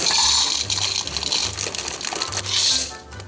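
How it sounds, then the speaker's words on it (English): Water poured into a slow cooker while making chicken noodle soup, a continuous splashing gush that rises and fades over a few seconds, close and fairly loud. "I'm gonna start with just adding half a cup of water"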